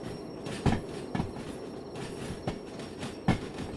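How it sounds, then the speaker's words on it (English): A heavy multi-locomotive freight train rolls along the rails in the Derail Valley simulator, wheels clacking over joints in irregular sharp knocks under a continuous rumbling drone, with no talking. "This is a proper train."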